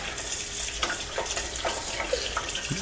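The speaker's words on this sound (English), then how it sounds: "Put them all in here and fill them all up with water." Water running from a tap into a canning pot for six jars of cucumbers, a steady broadband rush with brief splashy bursts, fairly close and continuous with no talk.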